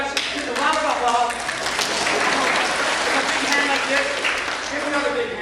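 Sustained audience applause at a celebration, a thick wash of many hands clapping with voices talking and calling out underneath.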